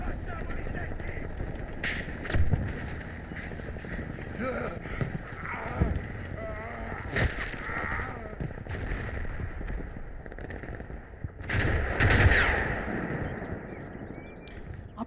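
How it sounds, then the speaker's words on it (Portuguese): Gunfire in the World War II tactical game Combat Mission Fortress Italy: scattered shots and bursts over a continuous battlefield background, with sharper, louder cracks standing out at a few moments. "Apesar de conseguirmos ouvir de onde partem os disparos, não é possível divisar as tropas inimigas"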